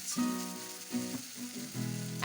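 Poppy seed, ginger and green chilli paste hits hot oil with a tempering of dry red chillies and a bay leaf, giving a close, steady sizzle that swells in several bursts as it fries.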